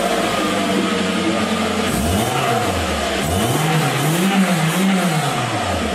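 A car engine is tested, revving steadily with rising and falling pitch sweeps over a constant loud drone, close and continuous.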